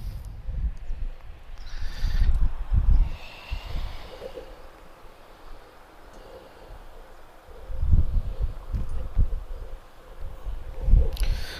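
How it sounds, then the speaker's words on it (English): Gusty wind buffeting a microphone outdoors at Lisbon Airport, rumbling low bursts that swell and fade irregularly, strongest in a couple of heavy gusts. "it's quite windy today, so hopefully the wind noise is not disrupting it too much"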